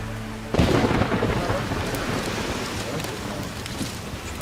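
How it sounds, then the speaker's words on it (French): A night storm with thunder, wind and rain: a sudden loud crack of thunder gives way to a heavy, rumbling wash of rain and wind drumming on surfaces, continuing steadily. "La pluie, combinée au vent, s'infiltre partout."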